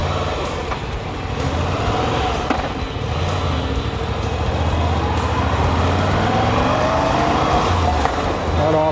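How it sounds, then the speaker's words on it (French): A motorcycle's gearbox clacks while it is ridden; steady loud engine and road noise run throughout, with faint intermittent mechanical clicks mixed into the drone. "je ne sais pas si vous entendez la boîte de vitesse, ça claque de ouf"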